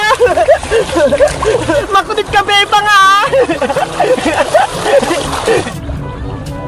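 Cold water splashes and sloshes over a person bathing outdoors near a swimming pool, bursts of splatter running through a few seconds under loud, excited shouting and talk.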